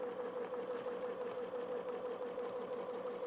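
A sewing machine runs steadily as it stitches fabric on a sewing show set, giving a continuous, close, even mechanical whirr with a fine rapid rhythm and no pauses.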